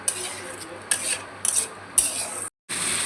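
A spoon stirs an egg mixture with yolks for egg akuri in a pan, giving a few distinct scraping strokes, close and fairly quiet, with a short pause before the last.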